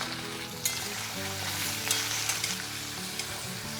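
Boiled, chopped potatoes frying in oil with asafoetida and turmeric, giving a steady close sizzle with occasional sharper crackles and light stirring scrapes throughout.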